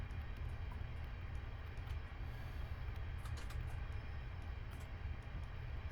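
A Class 365 electric train in Train Simulator runs the Edinburgh to Glasgow line into tunnels. A loud, steady rumble and rolling rail noise holds throughout, with no voices.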